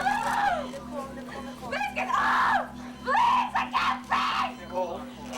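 An injured patient with an open fracture of the left shin screams in sharp, rising bursts in a trauma setting, with medical staff talking over and between the cries.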